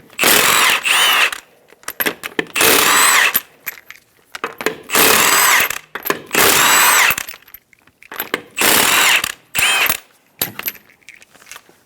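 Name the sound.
power tool removing lug nuts with 19mm socket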